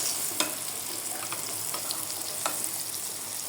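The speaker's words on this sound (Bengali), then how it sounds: "জালটা কমিয়ে কমিয়ে ভাজবে, তাহলে দেখবে যে সুন্দর ভাজা হয়েছে" Raw banana kofta balls fry in oil in a pan over a lowered flame, a steady close sizzling hiss with scattered small pops and light stirring clicks, no talking.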